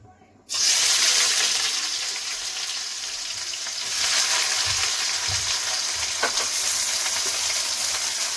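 Onions sizzle loudly in hot oil for bitter gourd ghonto, a Bengali korola dish; a steady broadband frying hiss starts abruptly and carries on with a few soft stirring knocks, with no talking.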